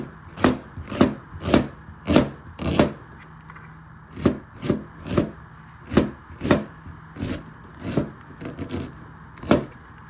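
A knife chopping onions on a board, a steady run of sharp close knocks in small irregular clusters, loud and clear with no talking.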